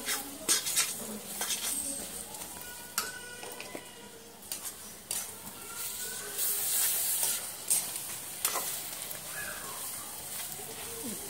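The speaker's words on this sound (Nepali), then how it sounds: "बाँकी भएको अदुवा लसुनको पेस्ट र खुर्सानीको पेस्टलाई पनि त्यसैमा राखिदिएर मजाले चलाउने एकछिन" Ginger-garlic paste and chili paste being stirred in a pan while making a sidra fish pickle, with steady scraping and clinking of a utensil against the pan over a soft sizzle.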